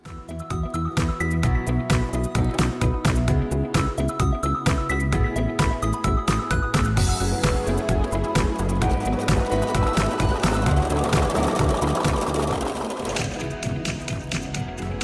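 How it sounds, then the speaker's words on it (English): A sewing machine stitching elastic closed on a simple vacation set garment, running steadily and close with a fast rhythmic needle chatter for the whole stretch, slowing slightly near the end. "Stitch the elastic closed."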